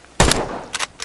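A single loud gunshot in a hunting video game, sharp and close, followed by a brief echoing tail and a couple of fainter bumps.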